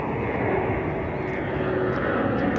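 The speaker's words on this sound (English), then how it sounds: "You can probably hear that big airplane going overhead." A large airplane passing overhead above a golf course, a steady broadband engine roar that holds loud and even throughout with no other sounds over it.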